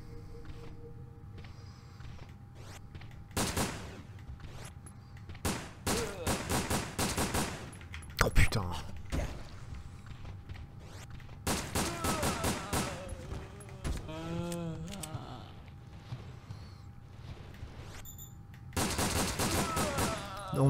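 Bursts of rapid gunfire from the PS2 shooter Resident Evil Dead Aim recur through a long stretch, with sharp repeated shots and fusillades separated by quieter gaps, and someone talks over parts of it.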